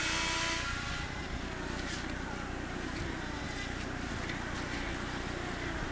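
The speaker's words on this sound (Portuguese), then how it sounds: "Sobe o som, vamos curtir o motor do carro dele." An IndyCar race car engine roars at the Baltimore street circuit during Friday practice in 2011, a loud continuous drone with a high engine whine throughout and a rushing broadband wash of track noise.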